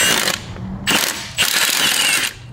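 A ratchet backs out the dual-mass flywheel bolts on a BMW E39 540i, with three loud, close bursts of rapid clicking separated by short pauses.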